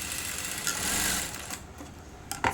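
A sewing machine runs double stitching on a blouse, a close, steady mechanical whir that stops and restarts with short clicks toward the end.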